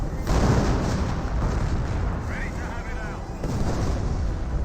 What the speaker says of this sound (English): I believe that's an officer barrage